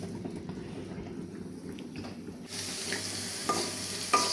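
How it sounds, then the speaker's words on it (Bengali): Garlic sizzles and fries in a pan for a Bangladeshi village meal, a steady faint crackle that grows brighter partway through as stirring clinks against the pan. "সাজনা পাতার ভাজার জন্য এসে আমি রসুনটা বেরেস্তা করে নিতেছি।"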